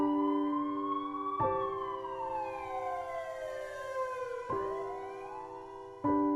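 An ambulance siren wails in long rising and falling tones, loud and steady, with abrupt pitch switches between cycles and no voices.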